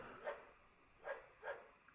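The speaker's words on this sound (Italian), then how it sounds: "Scusate per il cane del vicino" A neighbour's dog barks three times, muffled and somewhat distant, with short sharp barks spaced irregularly over a quiet indoor background.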